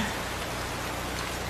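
Steady rain falls and patters across a surface, a dense, continuous hiss that stays even and close throughout with no voices.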